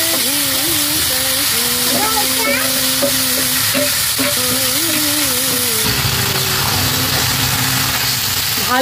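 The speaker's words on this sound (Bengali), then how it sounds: "ওই তেলের মধ্যেই এখন আমি মটনগুলোকে দেবো।" Mutton pieces fry loudly in hot oil in a kadai, a dense, constant close sizzle with stirring, as a voice speaks over it.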